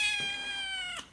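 A cat gives one drawn-out, close meow that rises at the start and falls off at the end, clear and tonal against a quiet indoor background.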